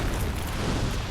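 A fire attack in the Dark Souls video game gives a dense, rumbling burst that roars steadily at close range for about a second, with no talk over it.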